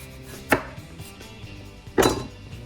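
A knife slices thinly through an onion on a board, two distinct cutting thuds about a second and a half apart, close and clear in an otherwise quiet kitchen.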